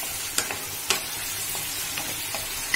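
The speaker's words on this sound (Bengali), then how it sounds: "ভালো করে আলুগুলো একটু কষে নেব।" Potatoes fried and stirred in a pan for an aloo soya chunk curry, giving a steady close sizzle broken by a few sharp scraping stirs.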